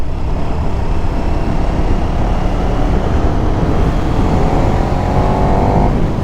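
KTM 1290 Super Duke R motorcycle, 2023 third version, accelerating hard on a country road in Vendée; a loud, close, continuous engine roar with rising pitch toward the end and wind rush.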